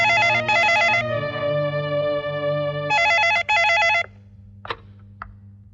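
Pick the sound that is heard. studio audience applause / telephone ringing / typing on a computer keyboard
telephone ringing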